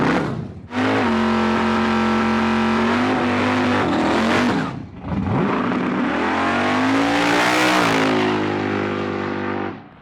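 A grudge-racing car running nitrous makes a loud pass, its engine roaring and climbing in pitch, dropping briefly as it shifts gears, then screaming up again before cutting off, heard close with no talking over it.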